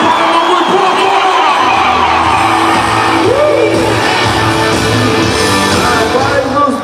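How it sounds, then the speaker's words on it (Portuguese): Rodeo crowd at Barretos roaring with sustained shouts, whoops and cheers, loud and dense throughout, with an announcer's voice running over the din. "E com o grito dessa plateia, o fim de uma vaca fica numa situação difícil"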